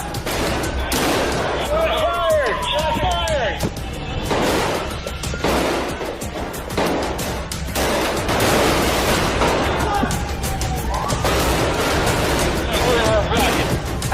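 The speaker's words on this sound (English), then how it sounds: "Oddi opens fire, and the officers quickly respond." Gunfire in an active shooter exchange between a gunman and police officers, with repeated loud sharp bursts of shots across the whole stretch, mixed with voices talking over the chaos.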